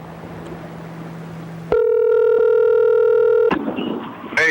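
A phone line tone on a call to a cell phone: faint background hum, then a loud steady electronic tone lasting about two seconds that cuts off abruptly, followed by a short click and rustle.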